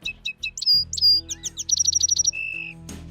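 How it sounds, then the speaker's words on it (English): A song sparrow sings a bright, close phrase of sharp chirps leading into rapid repeated trills and a sustained warbling note, with a low steady hum underneath. "that's the song sparrow"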